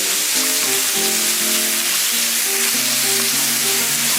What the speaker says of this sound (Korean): 그리고 여기에 소고기 또 같이 볶아주세요.